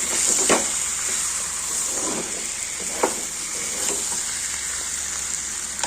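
Raw green jackfruit sautés with spices in a pan, producing a constant bright hiss with a few distinct utensil scrapes and stirs over a low hum, close by and free of speech.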